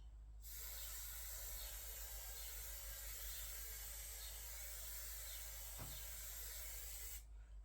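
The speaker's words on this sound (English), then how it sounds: "Give it a nice good spray." A spray can hisses steadily onto a model railway hedge for roughly seven seconds in one continuous, close burst, with a faint tap partway through and quiet before and after.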